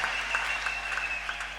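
Applause at a church service during the offering, a steady, faint wash of many hands clapping together with no distinct individual claps standing out.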